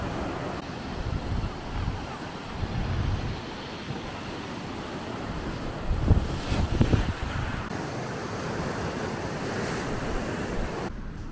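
Choppy sea waves break and surge under gusty wind that roars across the microphone, with louder swells around the middle of a steady, close wash of water.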